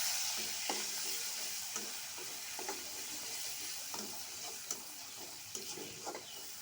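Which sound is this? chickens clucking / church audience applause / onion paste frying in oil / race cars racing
onion paste frying in oil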